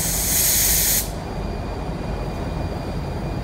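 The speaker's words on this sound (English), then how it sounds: "I'm going to be spraying my coverage coat at 22 psi." A loud, steady hiss of a paint spray gun applying waterborne base coat to a Honda Odyssey at 22 psi for about a second, then it cuts off, leaving a low background hum.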